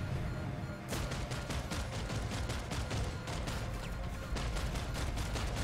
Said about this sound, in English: Damn, they're shooting everything at us.